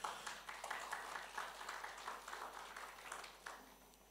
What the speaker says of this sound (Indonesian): Tepuk tangan buat Tuhan, saudara.